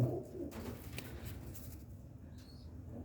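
A pigeon of a large Cheena breed, kept by a Punjabi fancier, gives soft low coos close by over a steady background hum, with one brief higher chirp near the end.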